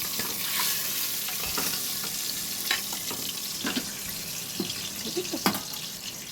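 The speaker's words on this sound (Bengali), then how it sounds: "এইবারে মাছের ডিম আর তেলটাকে দিয়ে দিলাম, তার সঙ্গে একটু পটকা ছিল সেটাও দিয়ে দিলাম। একটু ভাজা ভাজা হোক" Fish roe and oil with a bit of potka frying in a home kitchen pan, a steady broadband sizzle with occasional clinks and stirring scrapes throughout, moderately close.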